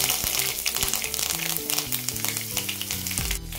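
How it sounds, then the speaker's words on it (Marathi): Asafoetida, cumin, mustard seeds and fresh curry leaves crackle and sizzle loudly in a pan of hot oil, a dense, close spitting hiss with faint low tones beneath and no talking. "जिरी मोहरी टाकून घेऊया, पत्र टाकून घेऊया, फ्रेश कढीपत्ता टाकून घेऊया,"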